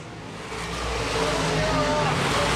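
Open wheel modified race cars roar around the Baer Field Speedway oval in a 2012 feature, a dense, building wash of engine noise heard from a distance.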